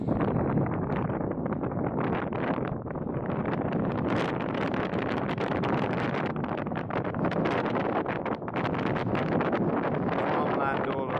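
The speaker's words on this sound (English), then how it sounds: "Yeah, it's very windy." Strong gusty wind buffets the microphone on the hilltop at Corfe Castle above the village, producing a continuous loud rumbling roar with rustling that surges and eases throughout.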